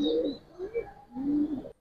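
Giribaz pigeons coo close by in two soft, rolling calls separated by a short quiet gap, with no talking.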